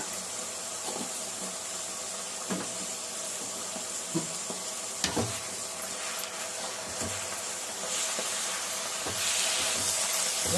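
Spinach greens wilt in a hot pan with a soft, steady hiss and gentle sizzle, broken by occasional light clicks and taps of stirring, growing slightly louder toward the end.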